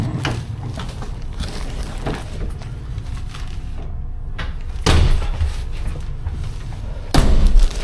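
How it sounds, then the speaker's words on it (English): A door at the Acton Town sidings on the Piccadilly Line is pushed open and walked through in the dark, giving two heavy thuds a couple of seconds apart over steady low background rumble. "let me just get through this door and I'll tell you"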